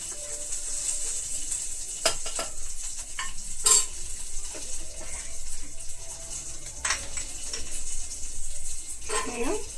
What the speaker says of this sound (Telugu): ఇది వేగిపోయింది కదా ఇంకా కొంచెం బాగా వేయించుకుందాం పచ్చిమిర్చి బాగా పొడలు వచ్చే వరకు వేయించుకోవాలి